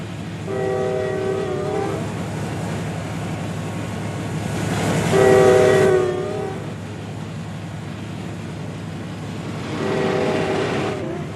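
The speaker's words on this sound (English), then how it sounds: "I'm gonna show you the max speed of the jailbreak train." Video-game train (the Jailbreak train) at its top speed of 90 mph, a steady rolling rumble with three drawn-out horn blasts, the middle one loudest, heard alone without talk.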